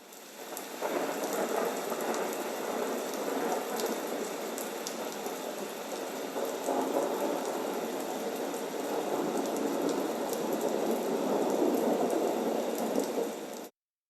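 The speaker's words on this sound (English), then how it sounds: "It clearly lacks bass, and you kind of notice that with the thunder and the wind and the pink and the brown noise" A Magicteam white noise machine plays a rain and thunder track: steady, hissy rainfall with low rumbling thunder that sounds thin and lacking bass, constant throughout before cutting off abruptly.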